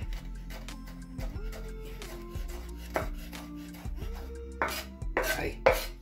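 A knife dicing food into small cubes for a smoked cod salad, soft repeated chops and scrapes on a cutting board, close, over a steady low hum and some background music.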